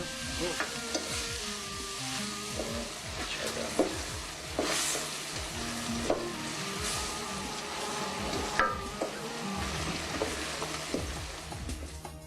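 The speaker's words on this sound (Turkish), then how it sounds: "Soğanlar ince doğranarak kavrulur bol tereyağında." Onions fry in plenty of butter with a dense, steady sizzle and bubbling, while a spatula scrapes and knocks against the pot at irregular moments throughout.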